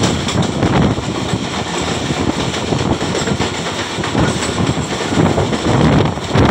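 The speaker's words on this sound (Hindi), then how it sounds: "संजवाल रेलवे स्टेशन पे हल एक्सप्रेस के साथ क्रॉस हुआ है 40 डाउन जाफ़र एक्सप्रेस का" Jaffar Express rolls past the halted Hal Express at Sanjwal railway station in Pakistan, a loud, close, continuous roar of wheels and clattering carriages with wind buffeting the microphone.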